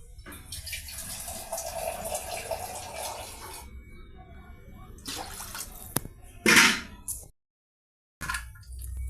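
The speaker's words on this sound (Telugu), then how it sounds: "వాటర్ 3 గ్లాస్ యాడ్ చేస్తున్నామండి." Water poured from a glass into a pan of roasted vermicelli for Telugu-style semiya payasam, a steady close splashing pour with a couple of short breaks and a brief silent gap near the end.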